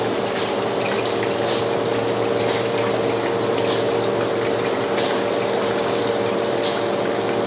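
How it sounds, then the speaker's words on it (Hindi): Water pours into a soda filling plant machine, a steady, close hiss and gurgle with a continuous pump hum beneath and soft periodic surges, no talking. "अब देख सकते हैं वाटर आ रहा है इसमें।"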